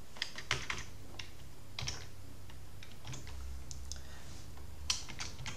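Keystrokes on a computer keyboard while a formula is entered into an Excel spreadsheet, a steady run of light clicks with a few sharper taps, close and fairly quiet over a low room hum.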